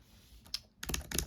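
Fingers tap on a ThinkPad laptop keyboard: a couple of isolated keystrokes, then a quick close burst of crisp, soft-travel clicks in fast succession, with no talk.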